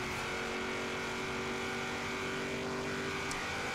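A modern car drives in Forza Horizon 3, its engine a steady sustained drone with a slight rising pitch sweep late on, loud and continuous without talk.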